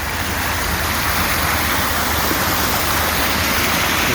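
Rainwater pours steadily and hard out of backyard rain barrels during heavy rain, a dense, unbroken rushing wash of water that stays loud and close from start to finish with no voices.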